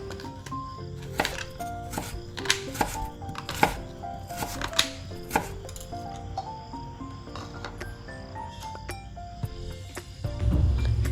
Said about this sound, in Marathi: कांद्याचे सुद्धा मोठे तुकडे वाटण्यासाठी करून घेत आहे